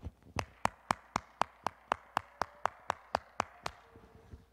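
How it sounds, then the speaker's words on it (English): Sharp hand claps in a steady, even rhythm, about fourteen in a row, close and distinct, tapering slightly softer at the end with no talking. "Could be a clap."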